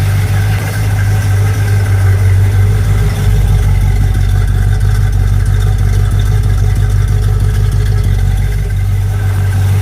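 A Pontiac GTO engine idles loudly and steadily through a too-restrictive, plugged-up exhaust, a deep throaty rumble that holds constant throughout with no talking.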